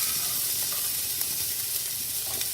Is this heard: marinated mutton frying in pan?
yes